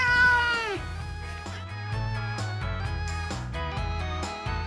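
A cat gives one drawn-out meow that falls in pitch, followed by background music with a steady beat.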